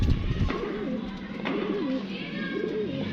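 Pigeons in a keeper's loft give three soft, rolling coos at even intervals, close by over a steady background murmur.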